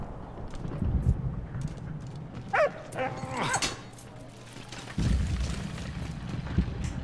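A dog in the video game Valiant Hearts gives a few short, high yips and whimpering cries over a low background hum, followed by softer thumping sounds.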